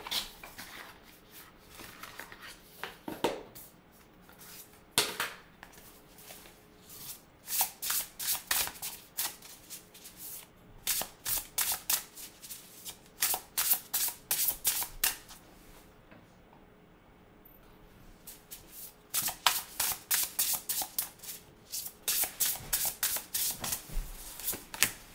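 A deck of tarot cards being shuffled over and over in quick riffling bursts, close and clear, with short pauses between runs and no talking.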